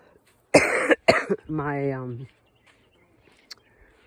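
Two sharp coughs close to the mic, followed by a short throat-clearing, voiced sound, then near silence.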